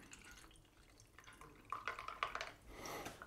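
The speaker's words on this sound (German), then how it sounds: "Fülle das Ganze noch ein bisschen mit Milch auf." Milk being poured over ice into an iced Oreo pineapple Dalgona coffee, a soft trickling splash that builds louder toward the end.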